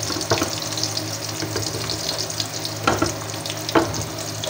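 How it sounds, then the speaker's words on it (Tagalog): Onions sizzle in a pot as a Filipino chicken soup with malunggay gets started, a steady hissing fry with a few louder crackling bursts and scraping stirs, no voices. "Lagay na rin natin ang ating sibuyas."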